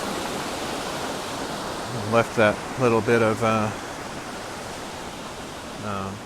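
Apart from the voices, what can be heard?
ocean waves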